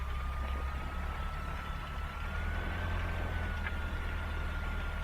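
A light aircraft engine idles at 1200 rpm on a taxiway, a steady low droning rumble with a faint whining tone held throughout, close and continuous with no talking.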